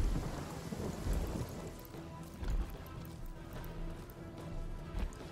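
Rain spell in the Divinity: Original Sin video game, with steady rainfall pattering on surfaces and low rumbles of thunder rolling through, faint and continuous.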